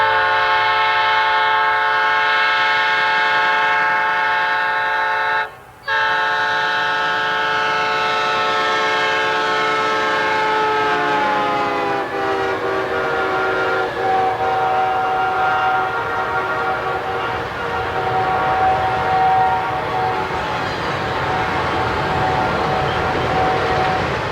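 Freight train Hot Shot 221, led by three GP50 locomotives, speeds past with a loud, sustained horn and steady roar of rolling cars that continues for the whole stretch.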